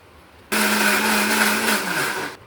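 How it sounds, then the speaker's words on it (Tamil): A mixer grinder whirs loud and steady for about two seconds as it blends banana in its jar for a sweet snack, then its pitch drops as it slows, with no voices. "பழத்தை வந்துங்க மிக்சி ஜாரில் போட்டு அடிச்சுக்கலாங்க"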